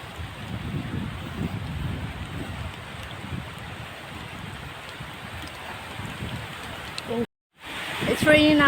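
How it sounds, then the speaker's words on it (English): Rain falls steadily during a walk on an island, a soft continuous patter with some wind across the microphone, and near the end a brief dropout is followed by a louder burst of rustling. "It's raining now."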